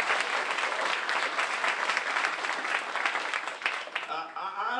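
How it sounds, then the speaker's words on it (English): A church congregation breaks into loud, sustained applause, dense clapping that fills the room and then tapers off at the end as the clapping thins out. "Can we give those a big round of applause?"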